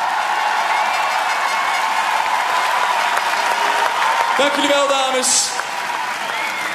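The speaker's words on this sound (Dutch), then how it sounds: "Mag een ongelooflijk applaus voor onze kampioenen!" A crowd celebrates the Dutch women's football champions at a homecoming in Park Lepelenburg, Utrecht, applauding in a loud, sustained wash of clapping and cheering while a voice speaks over it near the end.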